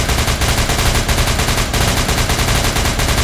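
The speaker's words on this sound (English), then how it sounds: "Normally you're supposed to run away from the gunfire," Sustained, loud gunfire fills the whole stretch in SCP Containment Breach, a dense continuous barrage of rapid shots with no pauses and no voices over it.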